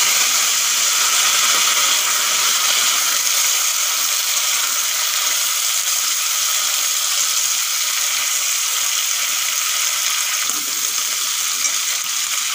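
Raw pumpkin hits hot mustard oil with tempering spices, giving a loud, steady broadband sizzle and hiss that holds evenly throughout with no voices.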